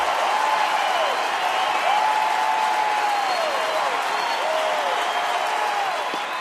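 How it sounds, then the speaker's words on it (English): A Detroit baseball stadium crowd hosting Pittsburgh cheers and applauds loudly and continuously as a pitcher nears a strikeout, forming a steady roaring wash with a broadcaster's voice drifting over the top. "Here comes the crowd."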